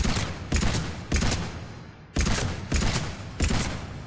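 Carnifex heavy pistol fire in Mass Effect 3 at point-blank range: about seven loud, punchy shots in an uneven rhythm, each with a short decaying tail.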